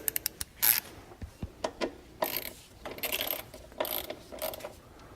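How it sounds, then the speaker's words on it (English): A hand ratchet tightens bolts on a plastic intake manifold of an electronic throttle body, giving quick bursts of sharp clicking in short runs separated by brief pauses, close and fairly quiet. "So I'll now take my ratchet"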